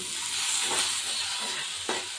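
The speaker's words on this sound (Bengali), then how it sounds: "এই যে আলুটা আমি ভাজছি" Steady close sizzling and hissing of potatoes frying in hot oil in a pan, with a brief scrape of stirring near the end.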